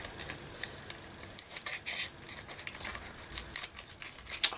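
Scissors snipping through a paper flower stem in a papercraft scene, a series of close, crisp irregular cuts with light paper rustling and no talk.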